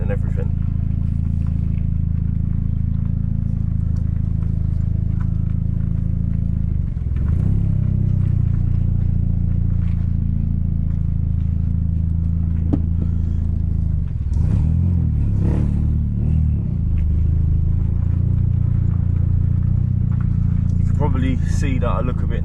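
A VW Golf MK4 GTI engine with a newly installed exhaust drones loudly and steadily at close range, a deep, constant rumble with slight swells, while voices are heard at times.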